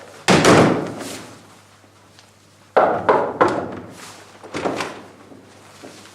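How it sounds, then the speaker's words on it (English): Knocking on a door during a children's English-class game, two clusters of dull, close thumps separated by a short pause. "And knock on the door."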